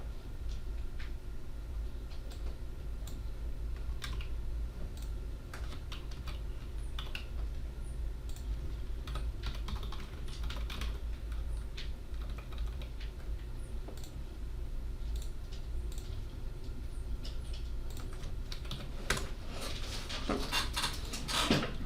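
Quiet typing on a computer keyboard during a numerical-methods coding example: irregular soft key clicks in scattered bursts over a low background hum, with no voices.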